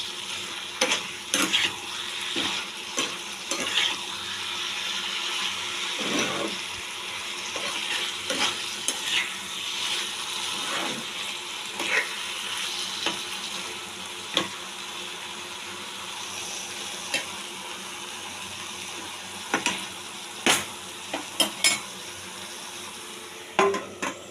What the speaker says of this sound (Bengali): এবার একটু ভালো করে আঁচ বাড়িয়ে কষাবো